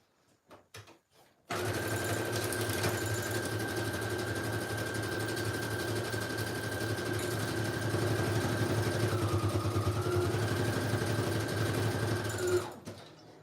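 An electric sewing machine stitches book-page pocket tags with an eyelet, starting abruptly after a few soft clicks and running steadily at a fast, even hum for about eleven seconds before stopping.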